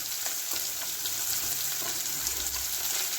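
Chopped onions fry in a pan over a lowered gas flame for dal fry, four medium-small onions giving a steady, close, crackling sizzle throughout with no voices.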